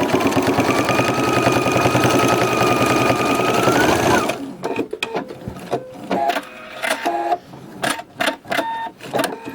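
A sewing machine stitches a quilt, following an established line of stitching: a loud, steady mechanical whir for about four seconds, then stops, leaving scattered short clicks and taps.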